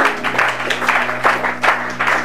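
A church congregation claps in applause during a Bible teaching, a steady crowd of many hands with rhythmic surges and swells, close and fairly loud.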